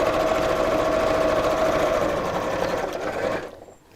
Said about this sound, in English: So let's sew the dividing line down the centre.